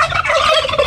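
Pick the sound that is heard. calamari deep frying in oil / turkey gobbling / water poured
turkey gobbling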